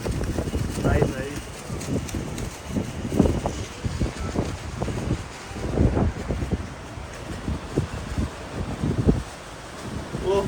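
Strong gusty storm wind atop a tall building in Noida buffets the microphone in heavy low roaring bursts, with flapping and rustling under occasional voices.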